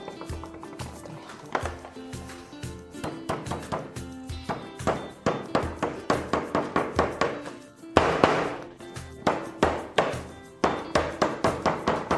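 A hammer taps steadily on an old wooden cupboard during paint removal, dozens of sharp, close knocks in quick rhythmic bursts with brief pauses between runs.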